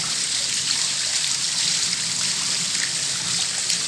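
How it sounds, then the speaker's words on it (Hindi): Steady, loud rush of floodwater pouring down indoor stairs inside a house, a continuous dense splashing roar with no pauses. "देखिए घर के अंदर सीढ़ी से कितना तेज़ पानी गिर रहा है, जैसे लग रहा है कि झरना बह रहा है"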